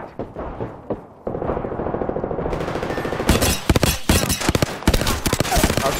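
Rapid bursts of gunfire in the battle royale video game Apex Legends, loud and close, with dense automatic volleys and sharp single shots crackling over a steady game background.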